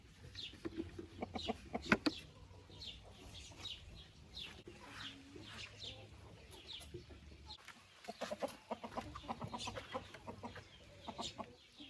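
Hens of mixed breed cluck and chatter in a farmyard hen house, repeated soft clucks and short calls coming close and fairly quiet, with brief louder squawks.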